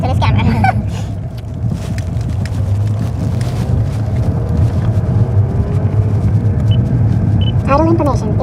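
A car drives along a bumpy road, a steady loud low rumble of engine and tyres running throughout, with short voices heard over it near the start and end.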